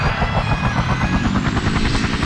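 Loud, steady rotor thump of a helicopter in the video game Emergency 4, with a throbbing whine, continuous and close throughout.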